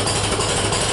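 A 1948 Co-op tractor engine runs steadily up close, a loud, dense, continuous mechanical rumble with no talk over it.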